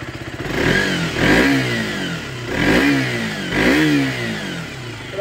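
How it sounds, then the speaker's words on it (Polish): A KTM RC 125 motorcycle engine is revved up several times in a row, each rise in pitch falling back to a rumbling idle, loud and close. "Przygazuję go troszeczkę."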